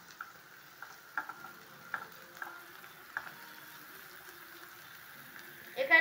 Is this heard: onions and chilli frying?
yes